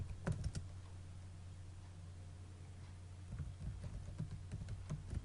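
Fingers type on a computer keyboard while writing HTML and CSS code, with a quick burst of key taps at the start and another at the end, separated by a short quiet stretch over a steady low hum.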